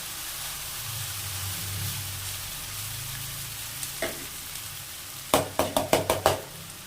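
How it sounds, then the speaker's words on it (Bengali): Boiled chow mein noodles tossed into a hot pan and stir-fried, a low steady sizzle with a scrape, then a quick run of five or six sharp knocks of a utensil against the pan near the end. "এবার আমি সেদ্ধ করে রাখা চাউমিনগুলো দিয়ে দেবো"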